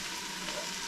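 Chili ingredients browning in a hot non-stick pot on a stove, giving a steady, close, crackling sizzle that holds evenly through a brief moment with no talk.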